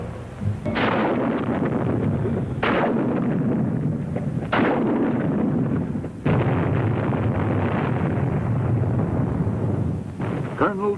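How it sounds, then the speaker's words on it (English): Marine combat engineers blast enemy fortifications in Vietnam, heard as several loud, rumbling explosions spaced a couple of seconds apart, each a sharp onset followed by a long roaring decay, with wind buffeting the microphone. "Marine combat engineers are called forward to destroy the enemy fortifications."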